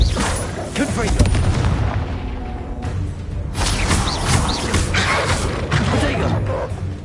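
A Confringo spell blast goes off in the Hogwarts Legacy video game, dense booming explosions and crashing impacts with mechanical rumble that continue loudly through the fight, mixed with shouted in-game voices.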